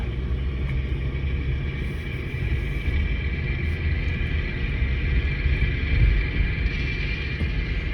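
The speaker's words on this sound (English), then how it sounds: "I believe that is just the brake pads touching the rotor" Front brake pads rub on the rotor of a Mercedes W163 ML, giving a continuous low scraping drone with a steady rumbling texture throughout.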